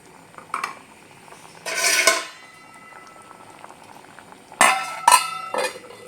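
Orange pachadi simmering in a pan as a lid is set on it: quiet bubbling underneath, with several metallic clanks and scrapes of the lid, one early and a cluster near the end.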